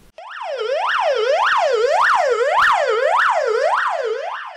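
Loud, close ambulance siren with a rapid rising-and-falling wail, repeating about eight times at a steady pace, heard alone with no talk, from an emergency medical service vehicle in Desnogorsk.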